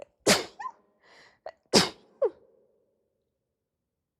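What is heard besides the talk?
sneeze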